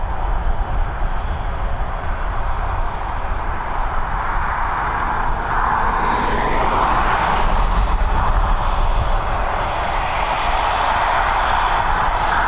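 A Boeing 737 jet takes off at Dublin Airport, a loud, sustained roar of engines that swells and shifts in pitch as the aircraft passes and climbs away, heard without any talking.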